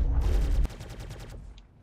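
Rapid bursts of gunfire in a video game, a loud fusillade of overlapping shots followed by a quicker string of sharp repeated reports that fades out, no voices.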